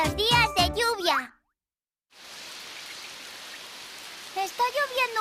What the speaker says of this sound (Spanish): Está lloviendo un montón.